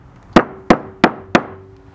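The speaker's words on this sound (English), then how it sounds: "Give them a good bash and don't have to mince them, but just loosens them up a bit" Four sharp, evenly spaced hammer blows strike abalone meat to tenderize it, each a close, loud thwack with a short ringing tail and no talk.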